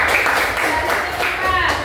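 A classroom of pupils claps for a classmate's correct answer, a dense, steady patter of many hands filling the short stretch at moderate loudness.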